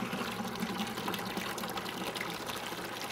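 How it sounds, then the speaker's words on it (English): Water drains from the hose of an antique 1934 Maytag wringer washing machine into a bucket, making a continuous, steady splashing gush up close, with no speech over it. "if you want to drain the water out of this beauty, you just put that hose down and the water will come out"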